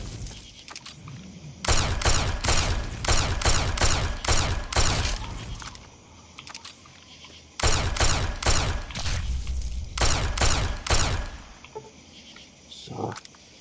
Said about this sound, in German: Und wieso fliegen unsere Schüsse jetzt immer vorbei?